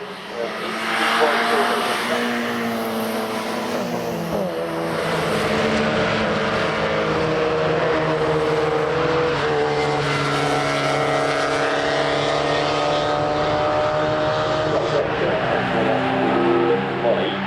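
750MC club race cars lapping the Cadwell Park circuit, a steady dense engine drone of several cars at once, continuous and loud throughout with a commentator talking over it.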